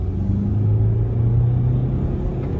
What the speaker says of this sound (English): We'll accelerate from first up a hill, mind you. It's a bit wet. First gear, second gear,